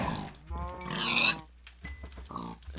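Pigs grunt in a modded video game, several short squealing grunts close by in quick bursts with quiet gaps between.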